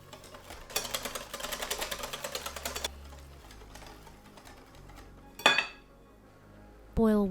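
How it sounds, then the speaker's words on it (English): A whisk clatters quickly against a bowl while rice flour, tapioca starch, salt and water are mixed into a smooth batter, a rapid steady rattling for a couple of seconds, then quieter kitchen sounds and a brief sharp clink. "Whisk until you have a smooth batter with no lumps."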